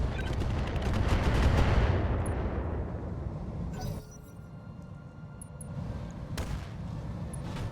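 Mech weapons in RogueTech firing all at once, a dense roar of gunfire and blasts that swells over the first few seconds, then drops to a lower rumble with a few sharp cracks near the end.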